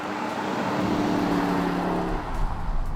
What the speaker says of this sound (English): we need to hit the road and see how the new Cayenne Coupe Turbo SE Hybrid drives